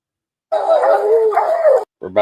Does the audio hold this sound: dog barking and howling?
yes